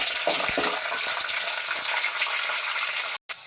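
Curry leaves fry in hot oil for an alam pulusu, giving a constant bright sizzling hiss with scattered crackles near the start, steady and close, then a brief drop-out near the end, with no speech.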